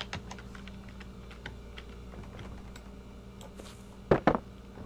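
Computer keyboard keys being pressed in a scattered run of soft, close taps, ending with a couple of louder clacks, with no talking over them.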